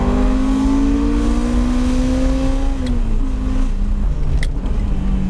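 A Ferrari running on brand-new Michelin Pilot Sport 4 tires drones steadily from inside while driving, its engine tone holding even and then dipping slightly partway through, with no voices.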